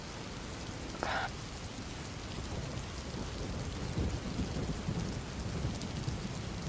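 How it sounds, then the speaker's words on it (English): A thunderstorm with heavy rain pours steadily throughout, with low rumbles of thunder rolling underneath and a brief sharp crackle early on. "I need to get out of the storm."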